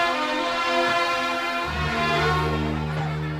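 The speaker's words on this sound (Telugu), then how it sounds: "ట్రైన్ వెళ్ళిపోతుంది" A train departing in a scene from the Telugu film Seethamma Vakitlo Sirimalle Chettu, with a loud sustained horn and a low rumble that comes in partway through.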